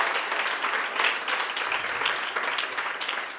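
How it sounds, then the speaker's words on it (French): An audience applauds a lecturer at the close of a talk, a dense, even patter of many hands clapping, moderately close and sustained for a few seconds. "On l'applaudit"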